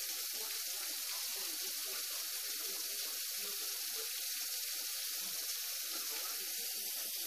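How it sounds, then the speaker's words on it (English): A water tap runs steadily at a workbench where dual micro coils are being built for a SmokTech Octopus RDA, giving a continuous close splashing stream with no pauses and no talking. "Turn my water on,"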